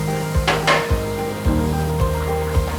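Cumin seeds sizzle in hot oil for Pongal, a soft crackle beneath a repeating low hum, with a few brief metallic clinks near the start.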